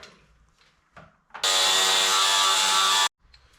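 A power tool cuts a piece of metal for the brake pedal of a homemade mini loader, a loud, steady shrieking cut lasting under two seconds, preceded by a few light clanks and handling noises.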